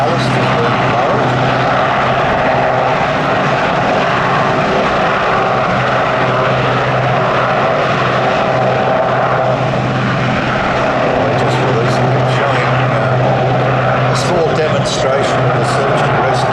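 A Westland Sea King helicopter hovers during a search and rescue demonstration at an air festival, its rotor and engine roaring steadily and loudly throughout, with a faint announcer voice beneath.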